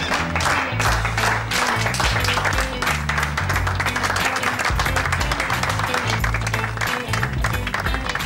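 A crowd in a Turkish comedy scene keeps up loud, sustained applause through a welcome at a meeting, a continuous wash of clapping layered over steady background music.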